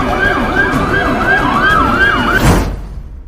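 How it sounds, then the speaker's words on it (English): Loud wailing sirens sweeping up and down in overlapping cycles, close by, ending with a sharp burst before cutting off. "The sound of sirens grows louder as the authorities arrive"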